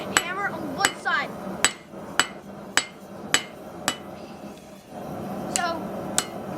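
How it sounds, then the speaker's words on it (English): Hammer blows flattening a damaged metal tip on an anvil during blacksmithing: about nine sharp, ringing strikes at a steady rhythm with brief pauses, close and loud, with a voice talking underneath. "Once you get it flat, you're going to hammer on one side."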